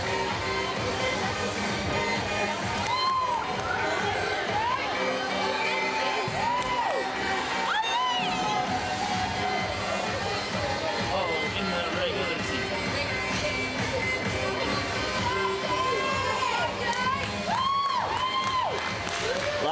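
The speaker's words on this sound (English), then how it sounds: "A lot of cheering and clapping by the team moms." Team moms cheer and clap in the stands at a 14U AA youth ice hockey game, a steady crowd roar with whoops and scattered shouts running the whole stretch, fairly loud and continuous with voices mixed in.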